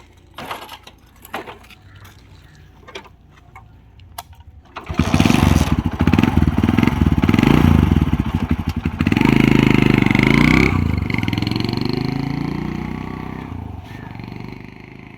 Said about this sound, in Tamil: இப்போ நான் வண்டி உங்களுக்கு நான் டெஸ்ட் ட்ரைவ் பண்ணி காமிச்சிடுறேன்